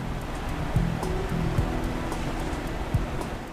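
The Neuse River at New Bern, North Carolina, gives a steady, broad wash of moving water that stays constant and fairly loud, with a faint low hum underneath and no voices.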